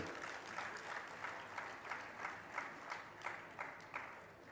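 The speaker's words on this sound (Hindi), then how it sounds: "अपने भाग्य को सराह कर एक बार अपने लिए ताली बजा लो" An audience at a religious discourse claps for themselves, a steady rhythmic group applause with evenly spaced beats, somewhat distant and soft, with no voices over it.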